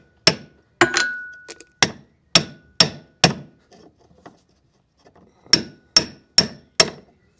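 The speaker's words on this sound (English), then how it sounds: "the puller's not long enough, so I'm just going to give it a light tap" A light hammer taps on a boat's cutless bearing in a Jeanneau Merry Fisher 805, a dozen sharp metallic strikes in two bursts with a pause between, close and clear with no talk.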